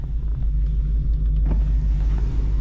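A Dodge Challenger SRT Hellcat Redeye slides while its tires catch grip and skip, under a heavy, continuous low rumble from close inside the car, with a brief rougher burst midway and no talking.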